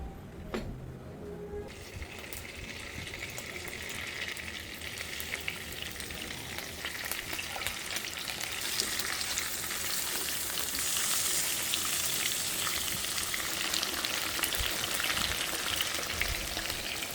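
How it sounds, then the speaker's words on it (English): Seafood, including squid, cooking in a pan with plenty of butter: a steady, close, continuous sizzle with a dense crackle that grows slightly louder partway through, with no talking. "I'm gonna cook my seafood here."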